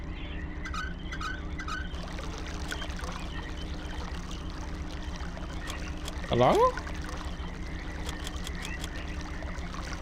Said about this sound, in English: We can hear the sound of flowing water.